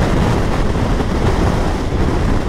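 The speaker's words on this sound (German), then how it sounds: "So windig heute." Strong wind buffets the microphone in a continuous, loud roar with no pauses, outdoors during a motorcycle trip in Chile.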